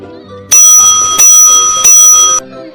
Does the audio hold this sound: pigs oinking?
no